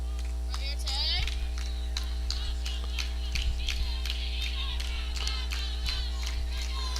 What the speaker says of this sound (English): Eagles in the dugout, cheering on Foster.